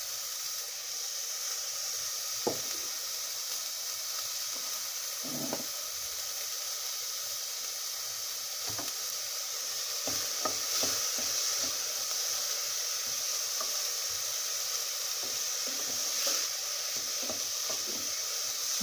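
Onions and tomato fry in a pan for chilli con carne, giving a soft, steady sizzle and hiss with a few scattered faint clicks and taps, and no one talking.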